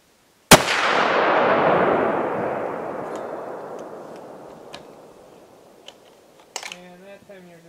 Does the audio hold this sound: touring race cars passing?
no